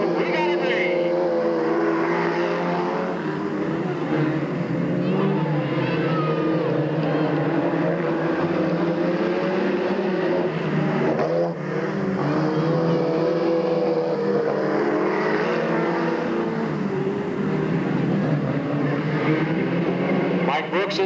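Race cars roaring past at Delta Speedway in Stockton on a green-flag start in 1997, a steady loud engine drone throughout under an announcer's voice.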